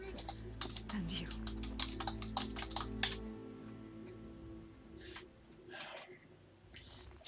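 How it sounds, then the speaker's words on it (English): A loud computer keyboard clacks in fast, uneven bursts of typing, then slows to a few scattered keystrokes over a soft background hum. "as you could probably tell by the clackety-clack of the keyboard"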